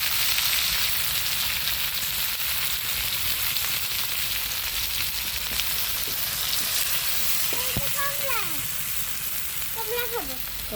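Stems, potatoes and jackfruit seeds sizzle in a pan for a pumpkin-greens curry, a continuous crackling fry running the whole time, with brief voices and other sounds over it near the end.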